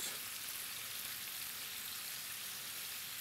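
Shrimp fry in hot oil with a steady, faint, even sizzle and crackle that continues unbroken and with no voices.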